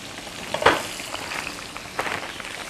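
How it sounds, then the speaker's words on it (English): A pot of water boils for rice noodles beside a stir fry, giving a steady close bubbling hiss with a couple of sharper pops near the start and again toward the end. "The water's boiling nicely there."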